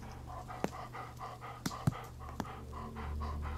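A dog in the horror video game Blair Witch pants in quick, steady rhythmic breaths, faint and close, with a few sharp clicks and taps scattered through and a low background hum.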